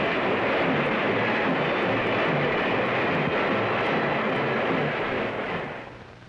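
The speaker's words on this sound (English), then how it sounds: "The speeding trains bear the strength of the nation." A freight train rumbles past on the rails with a steady, dense roar and faint rhythmic clatter, fading slightly at the end.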